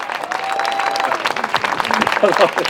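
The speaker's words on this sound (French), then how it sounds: "un tonnerre d'applaudissements pour l'excellent Éric Villain" At a European election campaign rally in Paris, a crowd applauds with dense, close clapping. Voices and cheering rise over it, with a pitched tone near the start.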